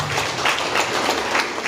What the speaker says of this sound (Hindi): उनके लिए जोरदार तालियों से उनका स्वागत है।